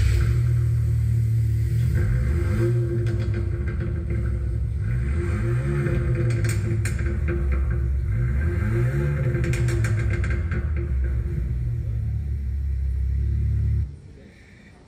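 A Fiat Fastback Abarth with a sporty exhaust rumbles at close range, its engine revved in three or four rising sweeps over a deep steady idle before cutting off near the end.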